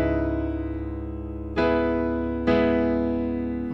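Piano playing part of a piano tutorial slowly: sustained chords ringing out, with two fresh chords struck about a second apart, close and clear with no talking.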